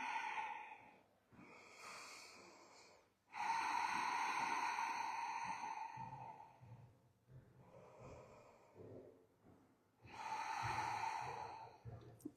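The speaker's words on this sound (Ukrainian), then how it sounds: "Дихаємо." Slow, deep breaths during a morning exercise routine done lying in bed, close and clear, with long airy inhales and exhales separated by short pauses.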